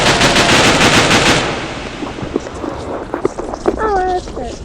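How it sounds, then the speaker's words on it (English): Rapid automatic gunfire from the shooter video game Gorebox rattles loudly for over a second, followed by a few scattered shots and other game sounds, with a voice talking over it. "Why are you shooting at me?"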